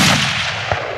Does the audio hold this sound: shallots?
no